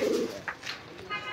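A single pigeon coos softly in a brief low call near the start, followed by quieter chirpy rustling, close by and fairly faint.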